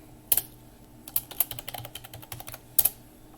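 A temporary password is typed on a computer keyboard, giving a quick burst of crisp key clicks at an uneven pace, with a few louder taps, close and clear in a quiet room, with no one talking.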